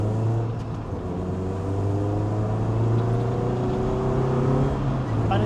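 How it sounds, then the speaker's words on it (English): A 1998 Lotus Elise S1's 1.8-litre four-cylinder engine drones and revs, pitch rising and falling smoothly over several seconds, fairly close with a throaty hum. "And it sounds good too for a 4-cylinder engine."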